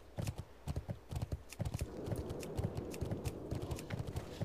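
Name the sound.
horse hooves clip-clopping in World of Warcraft video game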